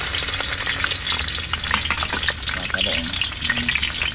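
Vegetables fry in hot oil in a village kitchen, a steady close sizzle with stirring scrapes throughout and no talking.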